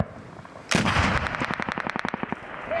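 A weapon firing during a Marine battle drill: one loud close blast followed by a rapid regular string of shorter bursts, the reports echoing outdoors.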